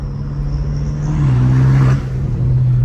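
Straight-piped BMW M5 Competition engine droning loud and close, swelling as it revs and dropping sharply near the end as a gear changes, then settling back into a steady low rumble.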